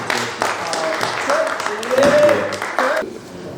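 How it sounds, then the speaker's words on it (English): A small group claps at a live youth radio podcast event, scattered applause mixed with voices and talk over it. "Can we get a round of applause for the participation?"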